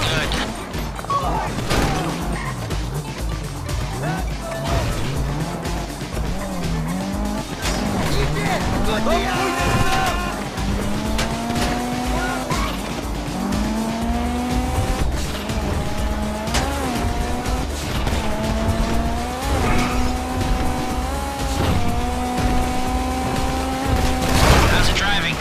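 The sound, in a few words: car driving with tires squealing in video game GTA V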